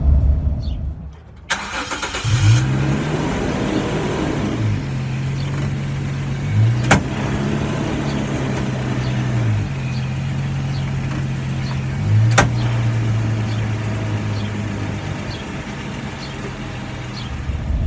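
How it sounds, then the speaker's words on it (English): A truck with a bad U-joint starts and then drives steadily, with a low rumbling drone and a couple of sharp clicks or knocks along the way. "I've got a bad U-joint, so you'll probably be able to hear that."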